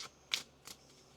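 Tarot cards shuffled in quick riffling bursts, two short crisp flurries close by in a quiet room, with faint pauses between them.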